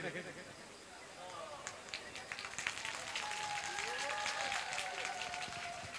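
A crowd at a Sambalpuri and Hindi song show claps and cheers, the applause building from faint to fuller, rapid and somewhat distant, with a sustained tone and voices mixed underneath.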